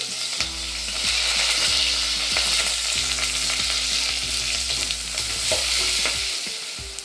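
Large onions fry in oil in a pan until brown, a constant close sizzle with a spatula scraping and clinking against the pan in a steady stirring rhythm, no one speaking.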